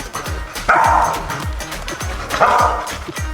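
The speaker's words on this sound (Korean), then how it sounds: "짖기 시작했답니다" A Labrador retriever barks and yips in loud, close, high-pitched bursts, two sharp outbursts with whimpering yelps between them and no talk.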